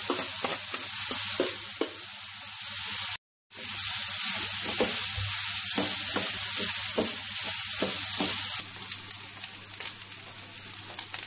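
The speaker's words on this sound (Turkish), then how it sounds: "Rengi değişmeye başlayan kıymamıza kuru soğanlarımızı ekleyelim ve kavurmaya başlayalım." Minced meat and onions fry in a pan for kıyma kebabı, producing a loud, continuous sizzle broken by regular scraping stirring strokes and a brief cut to silence partway through.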